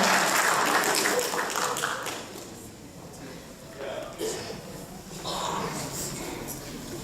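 A crowd claps at a senior awards ceremony for the class of 2019. The applause is loud at first, dips in the middle, then swells again, with voices and cheering underneath.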